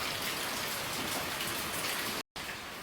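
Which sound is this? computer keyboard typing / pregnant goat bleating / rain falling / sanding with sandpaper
rain falling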